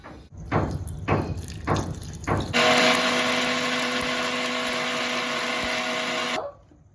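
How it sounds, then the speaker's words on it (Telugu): A few short pulses of a mixer grinder, then a steady whirring grind of onion and garlic into paste for several seconds before the motor cuts off. "వీటన్నిటిని మనం ముందుగా మిక్సీలో పేస్ట్ చేసుకుందాం."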